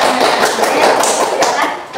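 A classroom of students clapping together for a group that has just presented, a short burst of dense, close hand claps with faint voices underneath.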